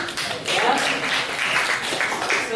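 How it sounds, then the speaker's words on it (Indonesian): Students clap together in a classroom, a steady, moderately loud patter of hands that continues for a few seconds. "Tepuk tangan."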